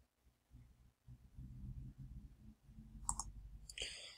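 A computer mouse clicks faintly a few times while dictating in Google Docs, sharp quiet clicks over a low background hum.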